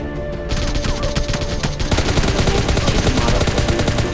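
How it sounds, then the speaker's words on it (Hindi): Rapid gunfire in PUBG Mobile Lite, a dense fusillade of automatic shots that builds after a brief quieter start and continues loud and unbroken to the end. "तो मैं फ्री फायर देता हूँ कि भैया बंदा डर जाए"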